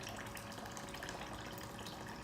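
Water pumped from a 5-gallon bottle pours steadily into the reservoir of a Behmor Brazen Plus coffee brewer, a continuous splashing gush with a faint pump hum underneath and no talk.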